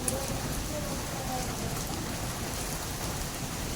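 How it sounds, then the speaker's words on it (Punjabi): A heavy downpour at a Punjabi home pours down in a thick, unbroken roar that stays constant and fairly loud throughout. "ਮੀਂਹ ਆ ਗਿਆ ਬਹੁਤ ਜ਼ਿਆਦਾ"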